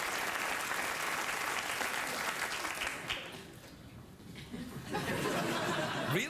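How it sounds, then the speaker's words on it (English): A late-night talk show studio audience bursts into loud, sustained applause mixed with some laughter, dipping briefly before swelling again. "That's what gets the applause break?"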